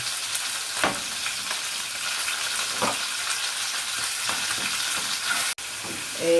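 Minced meat fries in a hot pan with a loud, steady sizzle, close up, as a spoon stirs it now and then with soft scraping strokes; no one speaks.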